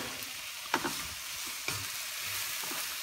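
Tomato sautéing in a pan for burong isda, with a soft, steady sizzle and a few scraping stirs of the spatula at close range, no voices present.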